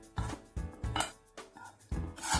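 A spoon scraping and clinking against a pan while semolina is stirred in ghee over a medium flame for rava laddu, a handful of quick, faint, irregular metallic strokes close by.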